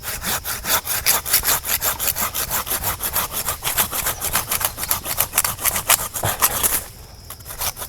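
A handsaw cuts through a branch on an oak tree in a steady, rapid back-and-forth rhythm of rasping wooden strokes. It is close and loud throughout, and the sawing eases off near the end.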